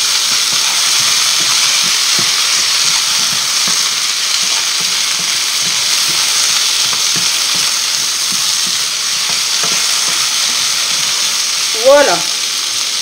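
Parsley is stirred into a frying pan alongside tournedos and sauteed potatoes, a loud continuous sizzle and crackle up close with faint occasional utensil scrapes, ending in a brief squeaky scrape.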